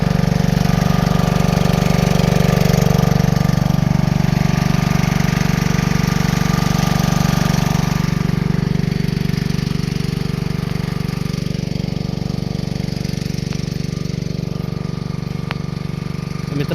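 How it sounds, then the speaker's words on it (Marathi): A pesticide sprayer's engine runs loud and close for the whole stretch, a steady throbbing drone whose pitch wavers slightly as it labours, with no talk over it. "बघा हे इंजिन बघा, या फवारणीचं इंजिन आहे"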